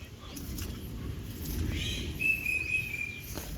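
Heavy rain falls with a dense, steady patter close by, swelling slightly midway, while a faint bird chirp rises briefly above it.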